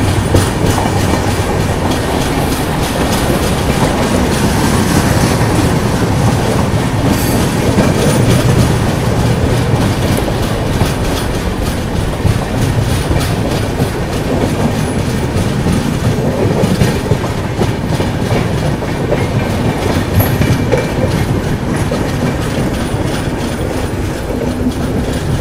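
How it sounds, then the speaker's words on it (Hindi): Dakshin Express, bound from Nizamuddin to Hyderabad, rolls through Ghoda Dongri railway station with a steady, loud rumble of coaches and rhythmic wheel clatter, occasional squeals rising over the continuous roar. "और ये आ गई दक्षिण एक्सप्रेस, जो कि निजामुद्दीन से हैदराबाद जा रही है"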